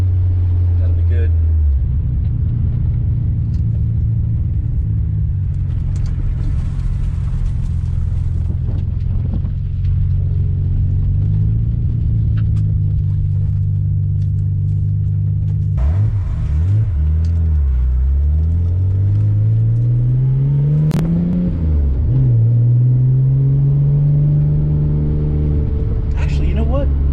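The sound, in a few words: RB26-engined car accelerating hard from low speed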